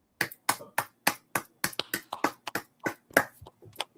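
A few listeners clap for a speaker at a scripture class, giving roughly a dozen sharp, close claps in a loose, uneven rhythm with no talking.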